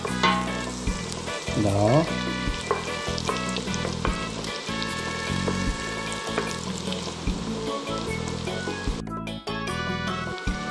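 Garlic frying in a pot for a Romanian green lettuce soup gives a steady, close sizzle with crackling and stirring scrapes throughout, and a single short spoken word briefly overlaps.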